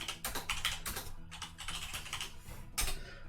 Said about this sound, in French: on va cliquer ici, on va taper vue de droite